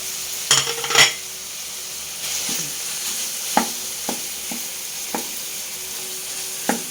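Ground pork sautés with tomatoes in a pan for a sayote dish, with a steady moderate sizzle broken by sharp clacks and scrapes of a spatula stirring.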